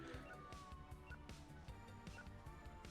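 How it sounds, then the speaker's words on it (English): Police sirens wail from a video game, quiet and steady, with a low rhythmic pulsing of game music beneath and no voices. "I thought I heard sirens"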